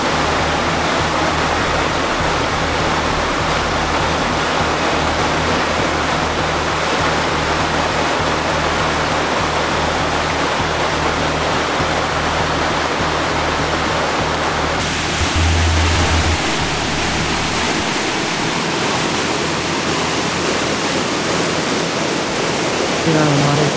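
A forest stream over rocks rushes loudly and steadily, a dense unbroken wash of water close by, with a brief low thump partway through.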